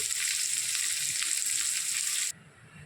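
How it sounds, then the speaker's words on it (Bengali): Potato and eggplant slices fry in a pan of hot oil, a loud, bright continuous sizzle that drops away abruptly near the end, leaving quiet background. "আলু ভাজা বসিয়ে দিয়েছি, মাছটা ভাজা হয়ে গেছে, আলুটা ভাজা বসিয়েছি।"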